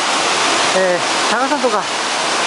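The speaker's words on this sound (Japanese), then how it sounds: "八頭寺、八頭寺の滝に来ています。" Broadband steady roar of the Yaken waterfall, a tall cascade of roughly seventy meters, running continuously and loud throughout while someone speaks briefly over it.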